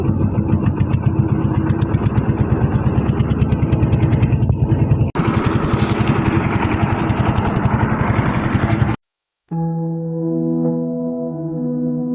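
Boat engine running with a loud, steady, close mechanical chug throughout, briefly cutting out near the end before a different tonal sound takes over.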